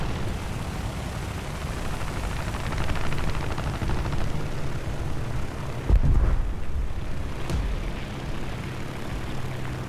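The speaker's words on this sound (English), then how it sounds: "then I heard our buddy shooting" A teammate's aircraft machine gun rattles in War Thunder air arcade, heard as sustained distant fire beneath a constant engine drone, with one louder burst standing out partway through.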